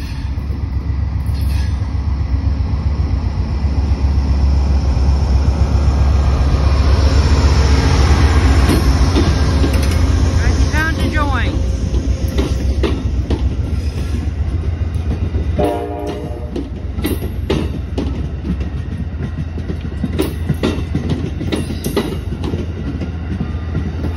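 An Amtrak P42DC diesel locomotive leads the northbound Vermonter passenger train through Greenfield, Massachusetts, with a loud engine roar, horn blasts sounding as it nears, then wheels clacking rhythmically as the cars pass close by.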